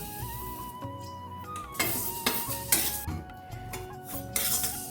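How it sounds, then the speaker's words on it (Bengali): A metal spatula clatters and scrapes against a pan while mung dal is dry-fried and stirred, giving clinks and knocks of irregular rhythm over a quiet tonal background. "প্রথমেই মুগ ডালটা আমি ভেজে নিচ্ছি"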